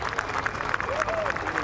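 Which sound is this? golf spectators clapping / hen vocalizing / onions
golf spectators clapping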